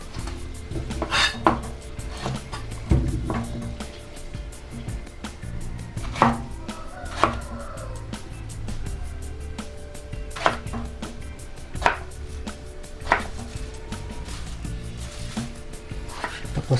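Eggplant being chopped on a cutting board, with sharp irregular knife knocks spaced a second or two apart over a soft background of kitchen clatter.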